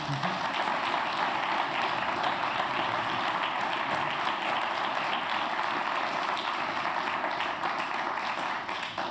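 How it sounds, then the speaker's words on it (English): An audience at an evening event applauds loudly and steadily for the whole stretch, a dense, continuous wash of clapping with no pauses. "And I think we can all applaud him very loudly."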